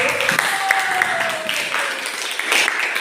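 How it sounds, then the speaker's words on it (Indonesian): Classroom applause after a group presentation, a brief patter of clapping blended with voices and talk. "Diberikan aplaus untuk kita semua."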